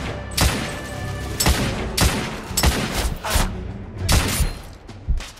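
Repeated heavy carbine shots boom in The Order: 1886 video game, with roughly eight loud blasts at irregular intervals among a continuous din of battle.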